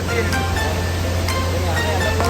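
Nidangoda Ella waterfall in Sri Lanka roars nearby, a loud, steady rush of falling water that fills the space with unbroken noise.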